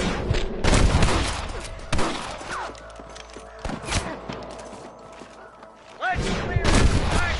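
Sniper gunfire in a Red Dead Redemption shootout: loud, sharp rifle shots crack at irregular intervals and echo over background game sound, with voices shouting between the reports.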